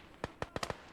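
Mortar fire in the WWII strategy game Gates of Hell: Ostfront, five quick sharp thumping reports in rapid succession, fairly faint and crisp with no talk over them.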